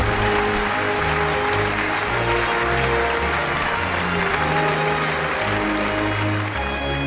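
A large audience applauds at a Chao racing awards ceremony, dense sustained clapping that stays loud and even throughout with no voices on top.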